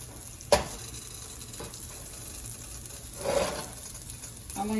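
Chickpea and beet patties fry in hot oil in a pan on a home stove, giving a quiet steady sizzle with a sharp clatter near the start and a louder hissing swell toward the end.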